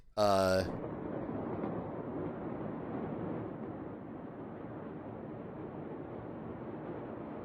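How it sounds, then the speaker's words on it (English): Explosion in Beirut, played back from a recording: a brief loud tonal burst opens, then a long, steady roaring rumble, like a distant blast and its aftermath, with no talking. "There was an explosion in Beirut today."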